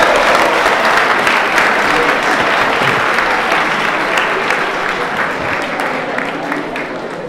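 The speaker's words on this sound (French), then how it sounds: "Alors on peut les applaudir" Loud, sustained clapping from a church audience in Toulon, a dense continuous roar of hands that stays strong throughout and tapers only slightly near the end.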